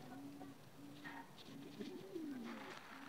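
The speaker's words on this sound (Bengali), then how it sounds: "এই যে এটা হলো মাদি কবুতর" A female King pigeon gives soft, low, rolling coos in short phrases, faint and close in a quiet room.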